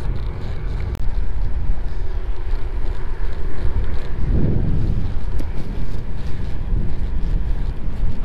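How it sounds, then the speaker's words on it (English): Strong wind buffets the microphone in gusty low roars beside a canal at the edge of a town, with a louder surge midway and faint background traffic, no speech. "It's bloody windy, it's been windy all day."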